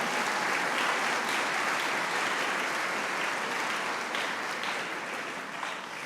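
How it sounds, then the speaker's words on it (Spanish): A church congregation applauds a group of children, steady unbroken clapping from many hands that holds its level for several seconds and eases slightly toward the end. "un aplauso para estos niños"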